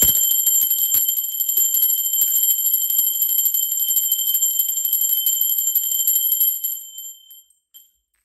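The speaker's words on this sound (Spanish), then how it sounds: "Ahora sí, va campana, aprovechen el sonido y soliciten su pedido." A bright metallic bell rings continuously with a sustained high shimmering tone and rapid repeated strikes, then stops and fades out abruptly near the end, with no talking over it.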